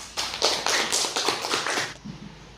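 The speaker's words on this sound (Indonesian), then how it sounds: "beri tepuk tangan untuk kelompok 2 yang sudah mempresentasikan" A short burst of clapping from a small group of students in a classroom, dense and fairly close, fading out after about two seconds.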